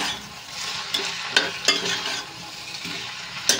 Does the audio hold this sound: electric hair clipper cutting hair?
no